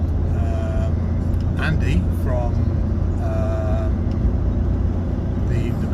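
A truck engine droning steadily while driving, a loud low rumble with road noise underneath and occasional faint squeaks, as someone speaks briefly over it.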